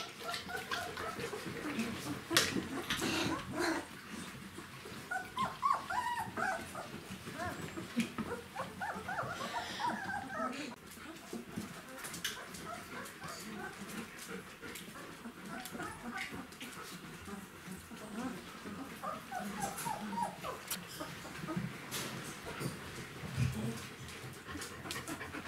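Soft whimpers and panting from young puppies being licked clean by their spayed mother dog, close by, with faint rustling throughout and occasional louder yelps.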